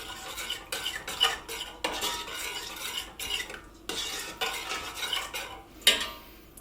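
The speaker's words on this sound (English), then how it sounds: "Stir in that mustard." Mustard is stirred into a white sauce for a savoury pancake bake, the spoon scraping quickly and rhythmically against the pot in close, busy strokes, with brief pauses and no voices.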